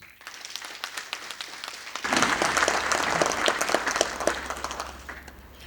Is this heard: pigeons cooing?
no